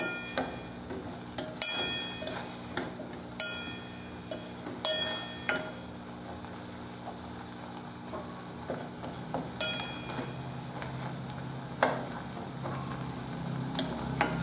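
Grated coconut and jaggery filling for horsegram puran poli being stirred in a pan, a soft bubbling sizzle under repeated sharp scraping clicks of a spoon against the pan at irregular intervals.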